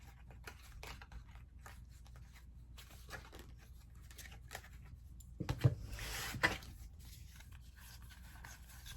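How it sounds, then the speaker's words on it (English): Tarot cards shuffled by hand indoors: soft papery scraping and riffling, quiet and continuous, with a couple of sharper slaps of cards near the end. "I'm going to shuffle all these cards in right now."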